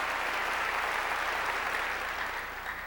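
A church congregation applauds during a sermon, a continuous even wash of clapping from many hands that tapers slightly toward the end, with no voices over it.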